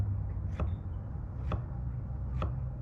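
Three sharp knife chops slicing vegetables on a cutting board, spaced about a second apart, faint over a low background hum.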